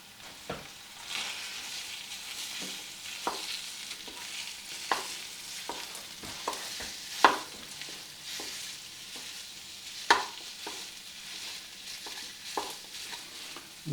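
Hamburger meat and chopped onion fry on a Cuisinart electric stovetop burner, a soft continuous sizzle broken by irregular scraping stirs and occasional sharper pops, close and moderately quiet with no voices.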